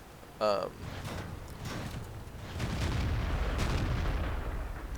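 A tank cannon fires once, loud and sharp, near the start of a tank video game session, followed by a sustained low rumble of engine and battle noise.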